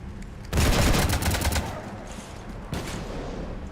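Video game gunfire in Mass Effect 3 raking a ship, a loud rapid burst kicking in about half a second in, tapering off, then a second volley near the end.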